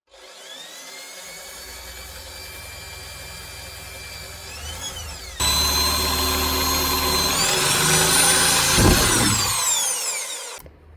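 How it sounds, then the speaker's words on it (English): A power drill boring a hole into a self-built campervan, whining steadily and then jumping louder with a rising, pitch-bending motor tone as the bit bites, close and alone, before spinning down abruptly. "Let's just drill a hole."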